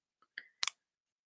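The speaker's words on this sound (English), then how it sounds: "And then again, with each of these corners, taking it and folding down." Origami paper folded down at the corners, heard as a few brief, crisp rustles ending in a short, sharp crinkle, close and alone in a quiet room.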